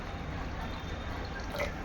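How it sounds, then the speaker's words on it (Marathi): Water poured into a cooking pot of chana usal, a spiced chickpea curry, with a soft, steady trickle and drip throughout, low in level and close by. "त्याच्यात आपण शिजण्यासाठी पाणी टाकून घेऊया."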